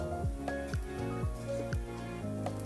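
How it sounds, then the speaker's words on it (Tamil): Fish curry (nathooli fish salna) broth boiling in a pot, heard as soft, close bubbling with a series of small popping gurgles at a fairly regular pace. "கொதிக்குது பாருங்க."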